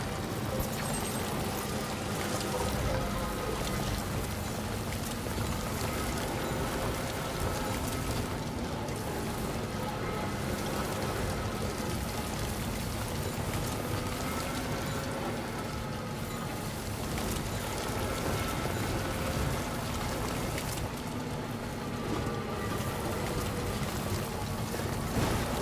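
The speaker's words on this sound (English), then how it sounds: "think this is the first time it's rained since we've gone to the musician each time." Steady rain falls in Death Stranding 2, a dense, even hiss that runs unbroken throughout with a low rumbling undertone.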